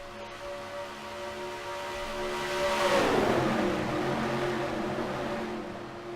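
Race cars at speed on the Charlotte oval in an NRLOA NAPATS K&N Filters 200 event just after the green flag, a loud sustained engine roar with a pitch sweep as cars pass close by, no talking.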